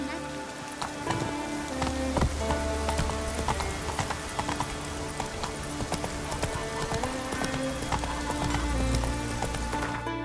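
Horse hooves clip-clop at a steady trotting rhythm in The Witcher 3, close and clear over a constant patter of rain, with a brief whinny-like tone.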